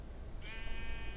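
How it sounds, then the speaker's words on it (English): A sheep bleats once in the Minecraft Story Mode video game, a steady sustained bleat rising out of dense background noise and music partway through. "A sheep?"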